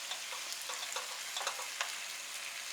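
An octopus stir-frying in a pan, the steady sizzle broken by soft scraping and tossing sounds, close and moderately quiet with no one speaking.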